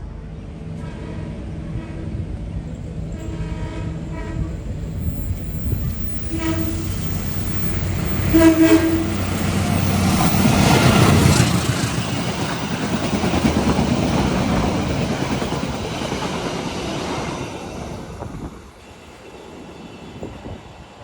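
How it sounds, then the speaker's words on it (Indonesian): The Ijen Express and Tawang Alun trains cross at Rejoso station, Indonesia, rumbling past with rising and falling mechanical noise, a horn-like tone sounding briefly midway, before the noise fades at the end. "kita saksikan persilangan antara kereta api Ijen Express dan kereta api Tawang Alun di stasiun Rejoso"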